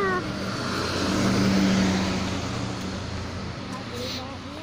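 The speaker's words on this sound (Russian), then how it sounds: "Мы сейчас едем по улице." A car driving along a city street, its engine and road noise holding as a steady, fairly loud rumble with no break, swelling a little partway through.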